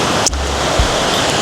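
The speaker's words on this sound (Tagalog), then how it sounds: "Lakas ng alon." Strong surf breaking on a sandy beach at Lambai Island, Xiaoliuqiu, Taiwan, a loud steady roar with a brief wind buffet on the microphone, no voices.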